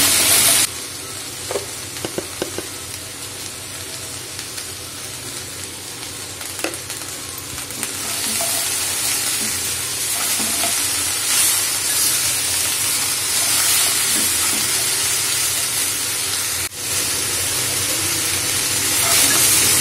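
Broad beans, eggplant and potatoes frying with Malabar spinach seeds in a pan give a steady hiss and sizzle, with intermittent stirring clatter and a louder surge of frying partway through.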